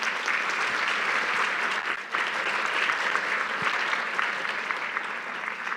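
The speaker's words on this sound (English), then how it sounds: "let's give our panelists, please, a big round of applause" Audience applause for panelists at a school-business partnership panel presentation, a steady dense wash of clapping that holds for the whole stretch with only a brief dip near the middle.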